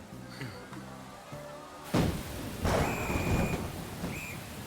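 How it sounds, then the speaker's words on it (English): Rain and thunder in the video game Persona 5 Royal, a festival scene: steady rainfall hiss under soft game music, then a sharp close thunderclap followed by a rolling rumble and further thunder. "Well, there's the rain."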